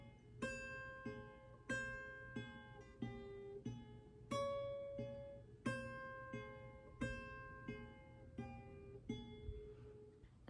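A guitar picks the intro of a song: a steady line of plucked, ringing single notes alternating between two strings, soft and close, each note sustaining into the next, with no voices.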